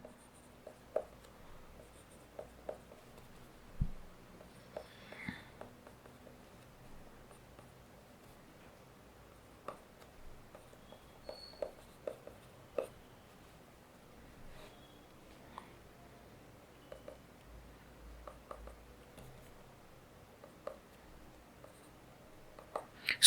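Pen or marker writing by hand during a physics lesson on torque, a scatter of faint, irregular scratches and taps over a quiet background, with no talking.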